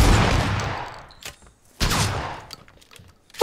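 Gunfire in the video game PlayerUnknown's Battlegrounds: two loud, close bursts of rapid shots, each trailing off into echoing decay, separated by short quiet gaps, with no talking.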